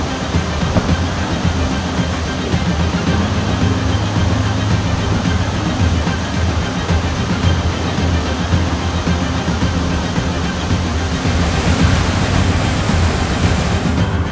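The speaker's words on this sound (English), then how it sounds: "Skogafoss waterfall, located just off the Ring Road, is one of the biggest waterfalls in Iceland." A loud, constant roar of heavy falling water at Skogafoss, one of Iceland's biggest waterfalls, dense and unbroken throughout, with some wind noise mixed in.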